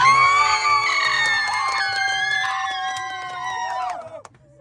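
Shrill cheering and screams from a crowd at a tourist camp's season opening ring out over a pulsing music beat, holding strong before dropping off sharply near the end.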